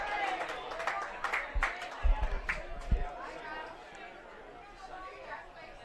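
Crowd at a baseball state tournament game, a Class C matchup between Prior Lake and Kimball, murmuring and chattering at a distance with a few scattered claps and knocks, under a commentator's voice.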